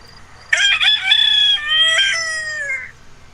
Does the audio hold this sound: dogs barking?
no